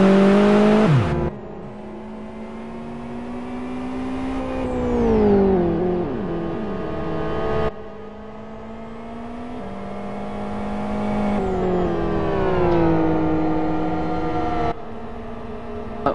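GT1 race cars driving on a track, loud engines rising and falling in pitch through gear changes, with several cars revving and passing close by over a sustained stretch.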